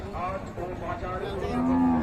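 A cow at the Raniganj cattle market in Dinajpur, Bangladesh, where beef cattle are sold, lets out a single drawn-out low moo, close and swelling louder toward the end amid faint market background.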